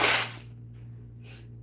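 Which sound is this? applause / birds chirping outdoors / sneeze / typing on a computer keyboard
sneeze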